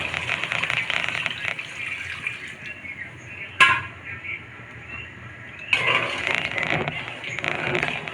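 Water gushes steadily into a cooking pot for a radish and tengra fish curry, a loud splashing pour that pauses briefly with a clank before resuming strongly.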